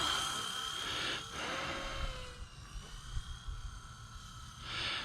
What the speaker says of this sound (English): But this helicopter does fly really well